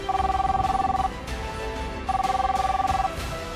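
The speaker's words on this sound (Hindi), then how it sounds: "मोबाइल फोन की घंटी बजी" A mobile phone rings twice, each a trilling electronic tone lasting about a second with a pause between rings.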